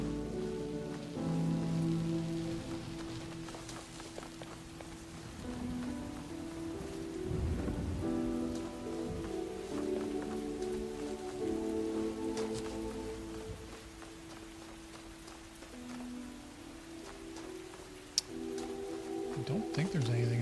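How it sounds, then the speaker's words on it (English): Steady rain falls in the video game The Talos Principle, with a continuous patter and low rumbles of thunder, while a voice talks over it. "It was sunny out, now it's raining."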